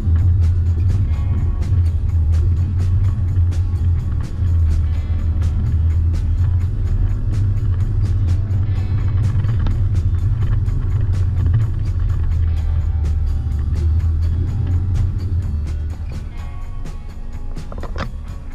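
A vehicle on General Grabber AT3 all-terrain tyres rolls through a stop-start test, giving a steady low engine and road rumble that eases slightly near the end.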